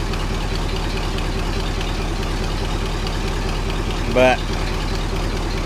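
A C60 truck engine idles steadily, a continuous low rumble that runs through the whole stretch; near the end a brief spoken word rises over the drone.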